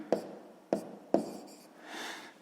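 Pen writing an answer in a grade 6 math exercise, three short sharp strokes tapping on paper in quick succession, then a softer scratching stroke, close and clear with no talk.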